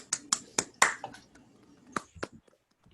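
Online meeting participants unmute and applaud a math talk, producing a few scattered, close claps and snaps in quick bursts, then a short pause and a couple more claps before fading out.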